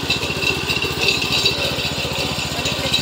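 A new tractor's engine chugs steadily in first gear as it rolls forward, a close, loud, even rattling putter that holds constant throughout with no voices.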